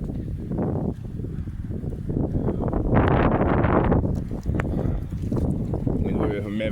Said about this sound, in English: The wind's just so strong, you know.